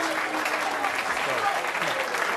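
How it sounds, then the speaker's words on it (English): A crowd at the 2024 Players Championship bowling event applauds and cheers in a steady, dense wash of clapping, with a voice speaking over it. "And the crowd goes mild."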